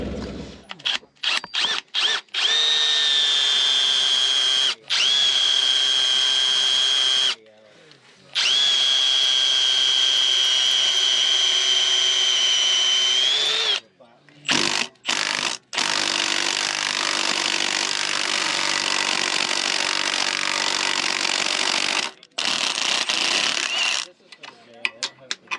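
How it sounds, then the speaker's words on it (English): A power drill bores and taps holes in a vehicle's steering knuckle during a trail repair, running in loud bursts with a whining pitch that rises and falls, separated by short pauses and the clatter of handling. "we should be able to drill and tap those 2 holes"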